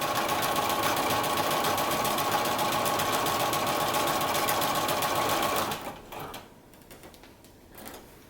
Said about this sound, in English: I let the sewing machine do the pulling.